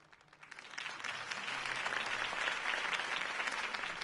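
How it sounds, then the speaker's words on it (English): Crowd applause following a political campaign speech, swelling after a quiet start into sustained clapping from many hands that holds steady to the end. "could have heard that applause"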